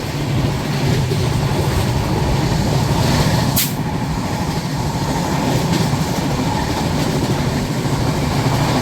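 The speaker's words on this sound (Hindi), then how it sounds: "उसके पहले डिब्रूगढ़ राजधानी से मैं क्रॉसिंग दिखाता हूँ।" The Dibrugarh Rajdhani Express rushes past on the adjacent track in India, a loud, steady roar of rolling wheels and rail clatter with a brief sharp screech partway through, heard up close from inside a moving train.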